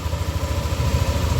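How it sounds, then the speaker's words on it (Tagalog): Yamaha NMAX V2 scooter engine idling with a steady low, pulsing putter and faint clatter, close up and continuous with no talk. "So ito na yung tunog ng engine."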